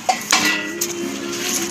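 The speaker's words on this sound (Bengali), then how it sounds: "থালটা বের করো, থালটা এই থালাটা বের করো" A metal plate is pulled out of a bag, giving a few sharp clinks and a ringing metallic tone that lingers faintly between small knocks.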